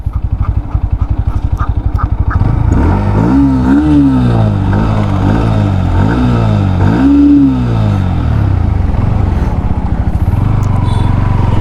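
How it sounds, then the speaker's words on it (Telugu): A 2024 Bajaj Pulsar NS 160 motorcycle, BS6 Phase 2 model, idles with a loud exhaust note, then revs hard toward full RPM in repeated rising and falling sweeps before settling back into a steady idle. The bike is close and loud, with no talk. "ఎగ్జాస్ట్ సౌండ్ వినండి మీరు ఒకసారి"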